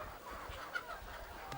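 Chickens in a coop on a small Indonesian poultry farm make soft, continuous clucking and murmuring, a low busy flock sound with no talk over it.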